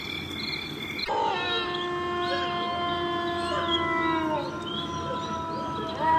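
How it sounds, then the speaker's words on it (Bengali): Several dogs howl at night around 3:30 am in a silent rural area. Long, wavering, overlapping howls begin abruptly and carry on over a faint background of insects and frogs. "কুকুরগুলো কিভাবে ডাকছে"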